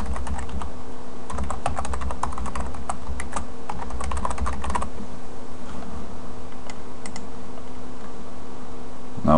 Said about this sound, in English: Type in a password. And my email address.